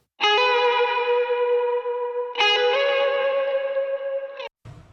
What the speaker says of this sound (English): which sounds like Nathan's, you know, really kind of steering into that whammy bar on it